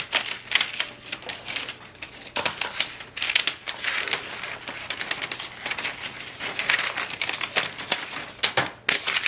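Scissors cut out a fabric dress pattern piece, close crisp snipping and rustling of cloth in an irregular, quick rhythm throughout, with paper or fabric handling between cuts.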